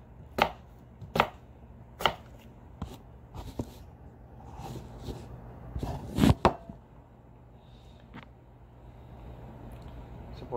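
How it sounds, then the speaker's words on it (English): A knife chops a potato into small pieces on a board: about a dozen sharp, close, uneven strikes with quiet gaps and a quick cluster in the middle. "Also wash the potato and cut a little smaller so that it will boil fast."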